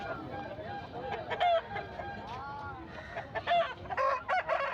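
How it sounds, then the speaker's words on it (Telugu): At a rural livestock market in Rayachoti, Kadapa district, a kaki nemili rooster of the Tamil Nadu breed, about four kilograms, gives faint clucks and short crowing calls in repeated bursts over a low background murmur. "తమిళనాడు బ్రీడ్కి చెందిన కాకినెమిలి పుంజు"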